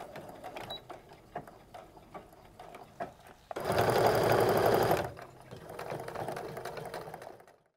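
A sewing machine runs steadily for about a second and a half, stitching around a cork and canvas handbag, with quieter mechanical handling before and after the burst.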